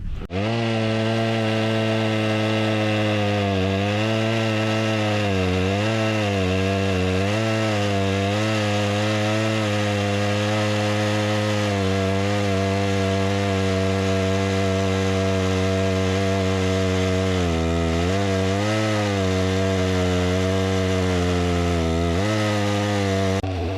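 Stihl MS261 and MS661 chainsaws cut logs being prepared for a sawmill, engines roaring loud and close throughout with pitch dipping and rising as the chain bites into the wood.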